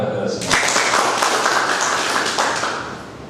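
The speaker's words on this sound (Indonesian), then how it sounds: "Tepuk tangan buat kita semua" A seminar audience bursts into applause, a sudden dense round of clapping that stays strong and steady, then gradually thins, with talk faintly underneath at the start.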